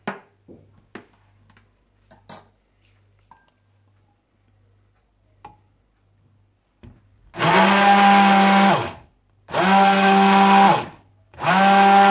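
An electric blender beats vinegar, white pepper powder and salt into mayonnaise, running in three loud, steady whirring bursts separated by short pauses, after a few quiet clinks and handling sounds.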